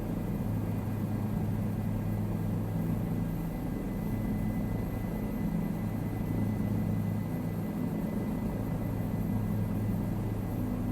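Bell 407 helicopter in a flight simulator game, a steady, smooth low rotor and turbine drone that holds at an even loudness throughout with no pauses and no talk.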